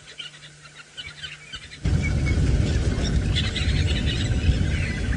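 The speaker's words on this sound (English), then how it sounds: "We've got red-billed buffalo weavers that are calling and building their nests over to our right-hand side." Red-billed buffalo weavers call and chatter during a sunrise safari drive, bright chirps scattered over a steady outdoor hum that grows louder partway through, birds moderately distant.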